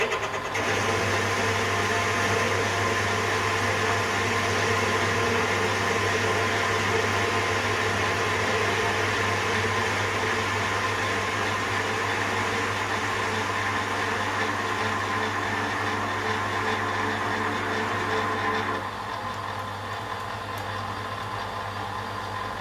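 A metal lathe on power feed turns a radius into the face of a buffer for a ride-on model locomotive, a steady whirring drone with a constant low hum that drops slightly near the end.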